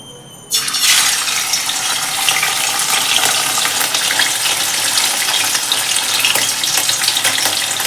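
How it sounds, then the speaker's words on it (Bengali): Pieces of fish dropped into hot oil in a wok burst into a loud, dense, continuous sizzle that starts abruptly after a brief quiet moment and holds steady and close. "তেলটা গরম হয়ে গেছে, এবার আমি ছাড়বো একটা একটা করে মাছ।"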